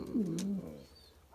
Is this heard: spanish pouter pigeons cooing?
yes